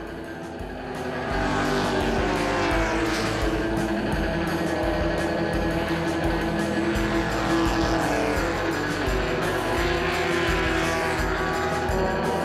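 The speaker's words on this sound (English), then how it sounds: "The one-hour Trofeo Nastro Rosso is underway with a field of pre-1966 Italian GTs" A pack of pre-1966 Italian GT race cars, including a Bizzarini 5300 GT and a 1966 Ferrari 275 GTB, roaring loudly and continuously past at the Spa Classic circuit, engines layered with occasional tire squeal.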